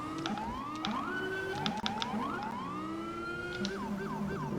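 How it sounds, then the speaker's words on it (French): Police car siren from the GTA V LSPDFR mod, a rumbler siren cycling through rising and falling wails and rapid yelps with short bursts, steady and fairly close, with no talk. "Et les rumblers sirènes."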